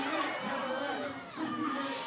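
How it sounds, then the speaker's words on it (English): A wrestling crowd at an independent show cheers and shouts for Daniel Eads, a steady mass of voices and chatter filling the room, swelling and dipping slightly. "The crowd cheering for Daniel Eads, pulling for him"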